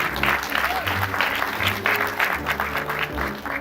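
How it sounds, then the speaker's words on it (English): Applause from a conference audience welcoming a financial-transparency panelist, a dense steady clapping heard over a low hum and a faint background voice. "Give her a round of applause, please."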